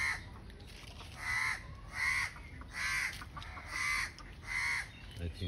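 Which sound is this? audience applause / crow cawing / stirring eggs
crow cawing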